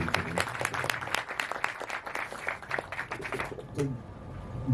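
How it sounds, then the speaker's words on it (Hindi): Applause from an audience at a video song launch and screening event, dense clapping filling the space before fading slightly near the end. "तो जोरदार तालियां पहले तो"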